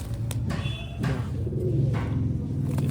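A lightweight, slim pigeon coos among others, low throaty rolling calls repeating steadily over a dull background rumble, fairly close and with no talk.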